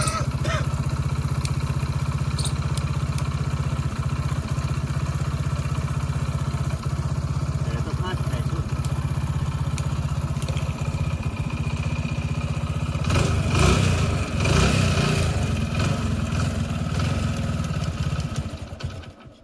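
A motorcycle engine idling with a steady close chug, then revving harder in a burst of rising throttle before easing off and dying down at the end.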